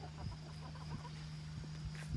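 Backyard chicken coop flock clucking softly, a few low clucks at irregular intervals under a steady electrical hum, fairly quiet and close.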